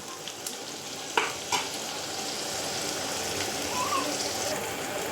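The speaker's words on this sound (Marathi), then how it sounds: "टमाटर घेतलेला आहे अर्धं, मीठ, मसाला, हळद चांगलं परतून घाटून घ्यायचं आहे" Half a tomato stir-fried in a pan with salt, turmeric and masala for besan capsicum, giving a soft steady sizzle broken by a couple of sharp spoon knocks against the pan.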